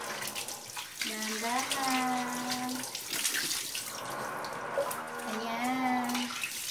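Shower water runs steadily throughout a pet's bath, a continuous close hiss with tonal, drawn-out sounds rising above it twice, while a person speaks softly nearby.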